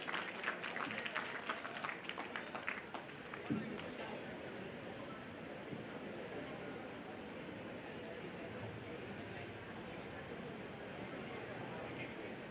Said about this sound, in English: Guys, offer a big round of applause.